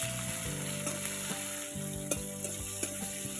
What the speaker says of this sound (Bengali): তেলের মধ্যে পেঁয়াজগুলোকে একটু লাল লাল করে ভেজে নেব।